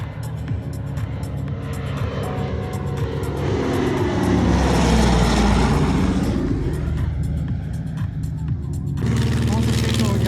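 A low-flying airplane at the Baltic Air Show roars past nearby, its engine noise swelling to a peak and then receding, with someone talking over it throughout.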